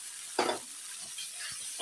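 Masala with green peas sizzling in a hot pan, a soft steady hiss with a brief louder sputter as the spices are stirred, fairly quiet and close with no voices.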